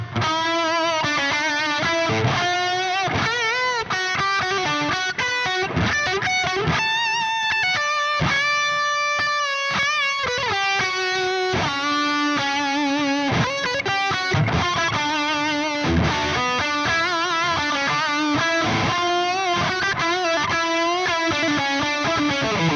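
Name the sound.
electric guitar with heavy distortion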